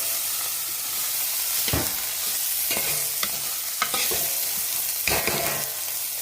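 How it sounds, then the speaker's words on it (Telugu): Chopped ivy gourd and green chillies frying in a little oil in a pan, a continuous close sizzle broken by several scraping stirs of a spoon, with no talking. "కొంచెం నూనె వేసి ఒకసారి ఫ్రై చేస్తున్నాం అన్నమాట."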